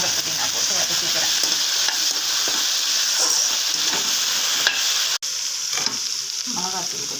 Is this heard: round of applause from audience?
no